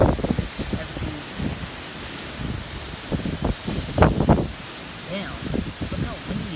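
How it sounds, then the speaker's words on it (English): Strong gusts from Tropical Storm Isaias buffet the microphone outdoors in Bethpage, New York, coming as repeated loud roaring bursts with rustling in between. "Look how windy it is out there."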